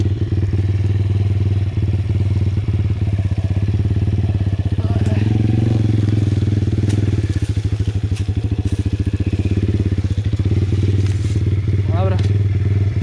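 A dirt bike engine idles and revs steadily up close while the bike is stuck, its engine scraping the ground, with scraping, clattering thuds and a voice talking over it.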